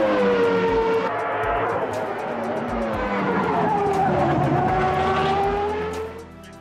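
A loud racing car engine in the sim racing game Automobilista 2, heard from an external view, roars continuously, pitch rising and falling as it revs through gears, with tire squeal, then fading slightly at the end.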